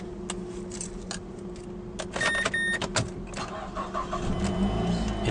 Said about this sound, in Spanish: El vehículo enciende correctamente